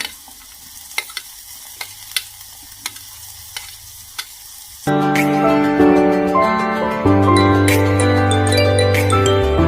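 Tomatoes and green peas fry in a pan for paneer curry. A few quiet utensil clinks give way to loud, continuous sizzling and stirring, with tonal music running underneath.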